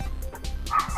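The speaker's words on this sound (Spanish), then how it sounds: "Es que están los perros afuera ladrando." Dogs barking outdoors near a house, a few quick yips and barks in a second, fairly loud and close, with no talk over them.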